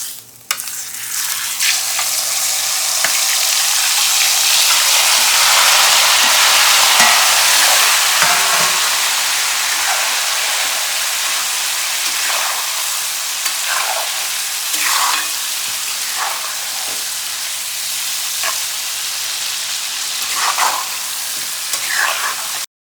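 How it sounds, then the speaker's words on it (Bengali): Mango pieces frying in hot oil with panch phoron spices for a sour, spicy, sweet mango pickle, a steady close sizzle and crackle with occasional stirring scrapes throughout. "এরপরে এই আমগুলো এর মধ্যে দিয়ে দিচ্ছি"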